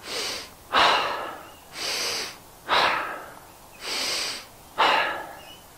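Slow, deep breaths taken while holding a standing yoga pose with arms reaching overhead, six long airy inhales and exhales alternating in a steady rhythm, close and clear with no talking.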